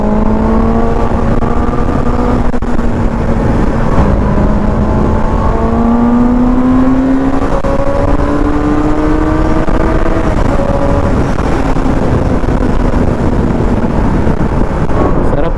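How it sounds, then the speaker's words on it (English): A QJ SRK 600 inline four-cylinder motorcycle engine runs loud and close, its smooth high-pitched whine rising and falling through repeated gear changes while riding. "Inline 4 cylinder siya guys, kaya yung tunog niya Pino."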